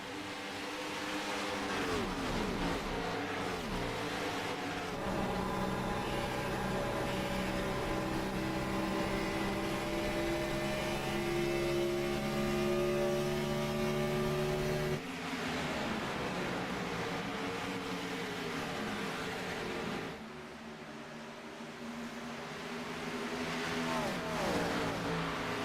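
Race cars roar around an oval track at Kansas in a Cup Series race, a continuous layered engine drone that swells and shifts in pitch as cars pass, steady and loud with no talking.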